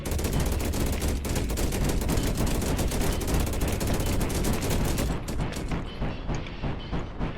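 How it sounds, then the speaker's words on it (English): Gunfire and carpet bombing from the Deep Among the Swarm video game: a dense, loud, unbroken barrage of rapid shots and blasts that thins out slightly near the end. "Just carpet bombing the entire area when I've got a death nest to deal with."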